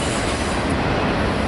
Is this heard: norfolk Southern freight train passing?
yes